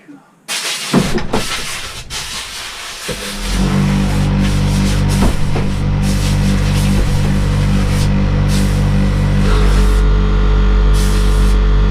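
Air compressor blowing grit off BSA A70L Lightning motorcycle engine cases: a loud, steady hissing blast that starts after a brief knock and runs continuously under a low mechanical hum, with voices briefly at the start.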